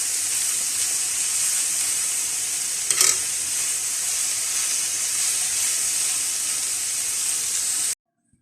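Vegetables for chicken fajita soften in a hot pan, giving a steady, loud broadband sizzle that runs unbroken for about eight seconds, with one brief clatter near the three-second mark before the sound cuts off abruptly.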